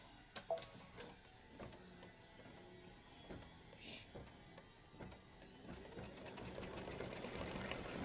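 Embroidery sewing machine stitching a band onto a felt witch hat, heard faintly as a quiet, steady mechanical ticking and whir that builds toward the end after a few small knocks.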